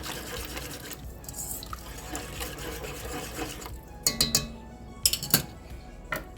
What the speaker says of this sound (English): And I'm going to stir this. Get that all mixed in.